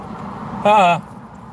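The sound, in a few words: car horn honk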